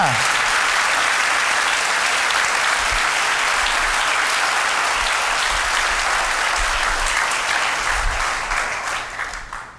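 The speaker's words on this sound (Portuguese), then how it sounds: "Pode aplaudir!" A church congregation breaks into sustained, loud applause during an evangelistic sermon, a dense wash of clapping that holds steady for nearly ten seconds before thinning slightly at the end.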